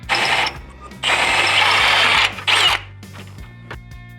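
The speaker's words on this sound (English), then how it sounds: "we're going to drill these out to 25/64, which is the required size for our nutserts" Power drill enlarging factory holes to 25/64 inch in the core support channel of a 1992–96 Ford Bronco or F-series truck, three loud whining bursts of drilling separated by pauses, with clicks and handling noise after.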